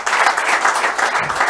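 An audience applauds the honorable speaker at a public forum with the taxpayers of Kinshasa, a dense, steady patter of many hands clapping close by throughout, with no voices over it.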